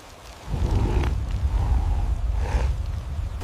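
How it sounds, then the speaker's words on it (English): Steady rain splatters down in an open prehistoric outdoor setting during a storm, a dense wash of hissing spatter that starts abruptly and holds loud and even throughout, with low rumbling underneath. "Worm's eye view as rain splatters onto uplifted faces."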